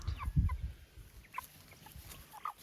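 Meat chickens on an Australian farm, six weeks old, cluck in short, scattered bursts that sound close, with soft rustling and quiet gaps between the calls.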